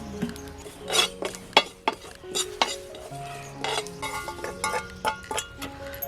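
Cumin and ajwain seeds dry-roasting in a pan for a homemade Konkani-style mango pickle spice mix, with frequent scraping stirs and sharp metallic clinks of a spoon against the pan over a soft sizzle.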